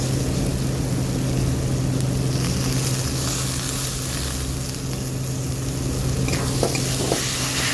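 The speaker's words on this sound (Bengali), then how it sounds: "মশলাটার সঙ্গে বেশ টক দইটা ভালো করে আর একটু মশলাটার সঙ্গে কষিয়ে নেব" Spice paste and sour yogurt frying together in a pan for a Bengali veg paneer paturi, a steady close sizzle with stirring scrapes throughout and a low constant hum beneath.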